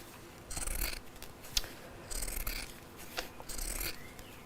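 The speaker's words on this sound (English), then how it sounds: "we're doing it with a pair of scissors" Scissors snip through fabric in short, quiet cuts, a few crisp bursts of blade rasping separated by brief pauses, close and otherwise silent.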